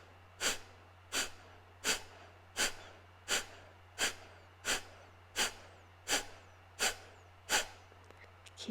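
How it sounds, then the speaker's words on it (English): Breath of fire yoga breathing: about a dozen sharp, forceful nasal exhales at a steady rhythm, each a short puff of breath, close and clear over a low steady hum. "Keeping this breath of fire going, we're detoxing, we're building some heat in the core"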